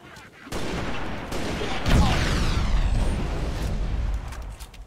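Sniper rifle fire in the video game Halo Reach, a loud sustained burst of gunfire and booming impacts rolling for several seconds after a quiet opening, close and dense.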